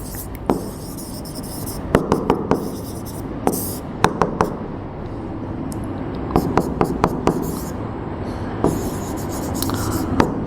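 Pen writing out a coordinate geometry math answer on paper, a series of close scratchy strokes and taps arriving in irregular clusters over a quiet background.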